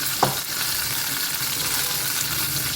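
Brinjal sautéing in oil in a pan gives a steady, close, loud sizzle that runs unbroken, with a single stirring scrape near the start and no talk.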